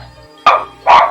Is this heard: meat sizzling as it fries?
no